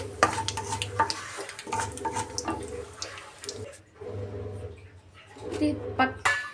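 A spatula scrapes and clinks against a pan while fried gongura (sorrel) leaves are scooped out onto a plate, giving irregular close metallic knocks and scrapes with short pauses.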